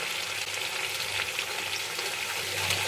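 Mango pickle fries and sizzles steadily in a small wok as it is stirred, a continuous crackling hiss with faint scraping, close and alone with no talking.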